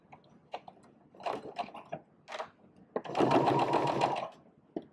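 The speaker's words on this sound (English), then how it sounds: "And then you start sewing all around the edge." Sewing machine stitching around the edge of baby bootie fabric, a few short bursts of stitching and then a steady, close run of machine whirring for about a second and a half.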